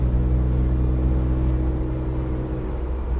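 A car's opened-up exhaust rumbles loudly and steadily at a low idle-like drone, deep and continuous for a few seconds with no clear rev rise, close by and alone.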